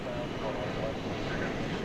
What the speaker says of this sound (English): So another 20th century cargo plane.